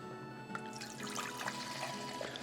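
White distilled vinegar and water pour into a cooking pot in a kitchen, making a steady, soft liquid splashing and trickling sound, close by and alone.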